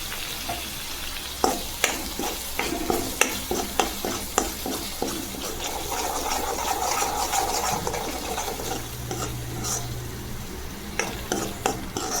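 Spice masala of turmeric, kitchen king and shahi paneer masala sizzling in oil in a pan for paneer bhaji, with steady frying hiss and repeated sharp scrapes and clinks of a spoon stirring against the pan.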